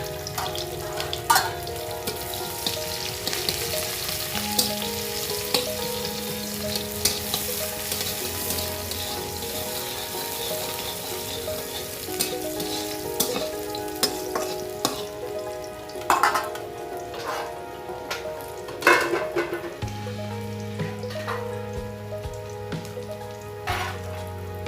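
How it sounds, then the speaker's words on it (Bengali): Chopped onion and green chili sizzle in white oil in a wok after a black cumin tempering, a long steady crackle with intermittent stirring scrapes and clinks, close and without voices. "পেঁয়াজটা ভাজা হচ্ছে"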